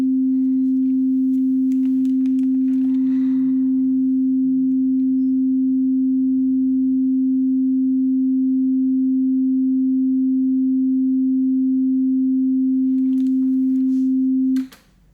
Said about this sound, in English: If I increase the tone a couple of octaves,